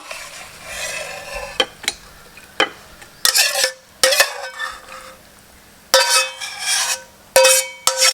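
Metal utensils scrape and clatter against a wok in irregular bursts while stir-frying snakehead fish, with a soft sizzle running underneath and brief quiet gaps between strokes.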